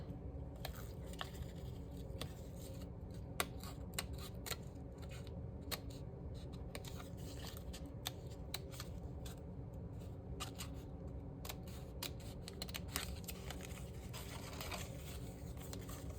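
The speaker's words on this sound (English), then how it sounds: "if you're using a scissors, all you have to do is just make a little hole" A steady run of small scissor snips over a constant background hum, quiet and close, with no one speaking.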